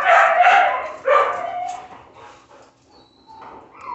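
Dogs in a kennel bark and whimper close by, a few sharp yips and barks early on, then softer whining and snuffling fading into quieter moments.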